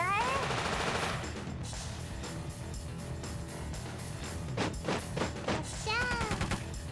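Gunfire in the video game War of the Human Tanks rattles in short bursts and single shots, interleaved with warbling game sound effects, all at moderate level.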